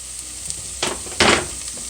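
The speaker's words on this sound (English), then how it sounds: "And in the pot, I have the other half a tablespoon of oil, along with another half tablespoon of butter." Half a tablespoon of oil with half a tablespoon of butter sizzles in a pot, a steady close hiss with two brief louder crackling surges.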